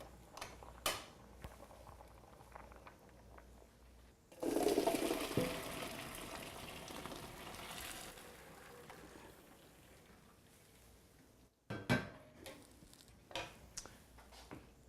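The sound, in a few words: draining cooked fettuccine pasta in the sink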